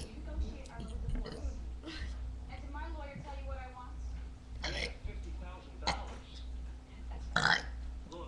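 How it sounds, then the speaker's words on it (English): A person burps the alphabet, producing a string of deep, drawn-out burps of varying length. Quiet talk and a steady low hum run beneath them. "I just burped the ABCs"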